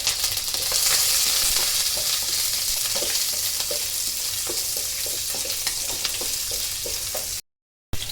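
Curry leaves and green chilies sizzle loudly in hot oil for a squid fry, a dense continuous crackle with small pops, briefly cutting to silence near the end.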